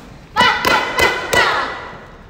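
Taekwondo kicks land on training pads: four sharp, loud thuds in quick succession, close by, with no talk over them.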